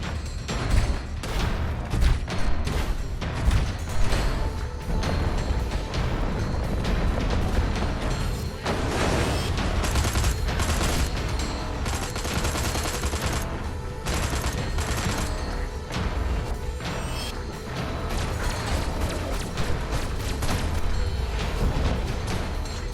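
Heavy weaponry boss battle against an overpowered robo-suit in the video game Destroy All Humans! Remaster, with dense, continuous loud gunfire, rapid bursts and booming blasts layered throughout.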